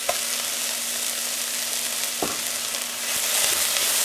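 Onions and garlic sizzling in a pot, with a steady close frying hiss and a few faint clinks of a utensil against the metal.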